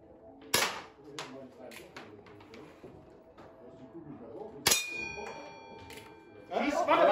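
Gunshots at an outdoor shooting range strike silver dollar targets, giving two sharp cracks with bright metallic rings that linger after each one, while people talk between the shots.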